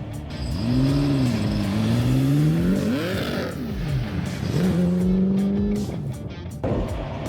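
A Ford GT40 engine revs and accelerates, its deep droning note climbing, dipping and climbing again through the gears, loud and close, with a brief quieter gap near the end.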